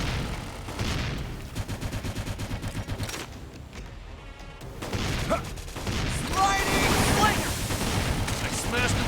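Gunfire and battle effects from cover fire in Xenoblade Chronicles X, with rapid bursts of shots and impacts, a brief lull in the middle, then heavier explosive fire, loud and dense, mixed with game music.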